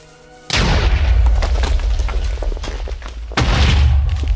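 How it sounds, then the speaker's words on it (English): Two heavy cannon blasts in the game Minecraft, each a loud deep boom aimed at a ship, the second following about three seconds after the first with rumbling decay between them. "I'm gonna fire another one at the ship."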